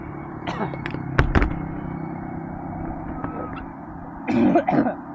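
A short run of sharp coughs from a cough that has lasted five days, over a steady background rumble, followed by a louder, rougher coughing burst near the end.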